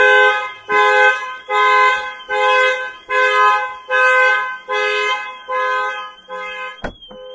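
A Toyota or Lexus car alarm blares in repeated loud pulses, about eight cycles of a rising, harmonic siren tone, ending with a short sharp click.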